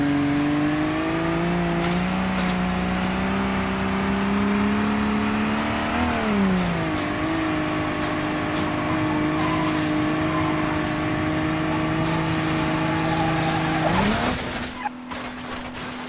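A video game car engine with its exhaust removed drones and revs steadily with a raw, buzzy tone, pitch shifting up and down, ending in a sharp rise and abrupt burst.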